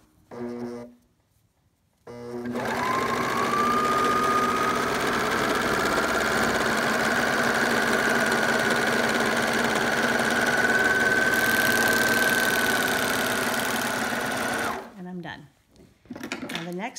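Sewing machine running a straight seam on a biblical costume sleeve, a steady whirring motor drone lasting about twelve seconds, close and loud, with short quiet gaps before and after.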